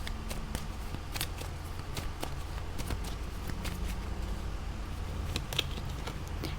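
Tarot cards being shuffled, a series of quick, crisp riffling and slapping bursts in an irregular rhythm, close and fairly quiet against a soft background hum.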